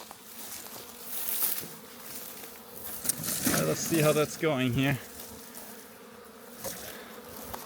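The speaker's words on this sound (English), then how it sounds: "There's a bunch of bees flying here back and forth." Honey bees buzz all around, a steady droning hum close by, with someone speaking briefly partway through.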